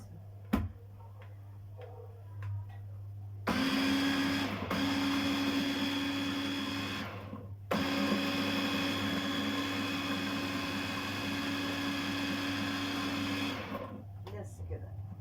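An electric mixer beats a batter mixture in a home kitchen, whirring steadily and close by in two long runs separated by a short break, after a quiet start.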